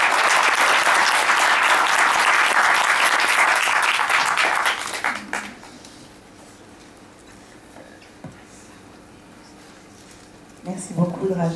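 Audience applause at a literary event, a loud sustained burst of clapping from a crowd that fades out after about five seconds, followed by quiet room tone and then a speaker's voice near the end.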